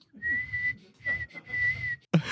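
A person whistles a simple tune in three sustained, clear notes separated by short pauses, close and alone, followed by a brief burst of noise.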